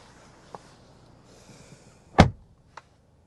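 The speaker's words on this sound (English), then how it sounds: "Shutting up the door" The rear door of a 2026 Genesis GV70 shuts with one solid thud, preceded by a faint click and followed by a small latch tick, close by in an otherwise quiet setting.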